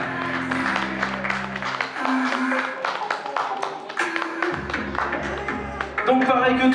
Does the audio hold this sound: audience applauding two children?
yes